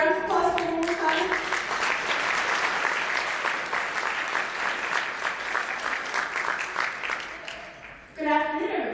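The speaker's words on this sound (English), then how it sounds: "Round of applause for one more time." Audience at a luncheon applauds, a sustained, roomy patter of many hands clapping at moderate loudness, with a voice briefly heard at the start and again as the clapping fades near the end.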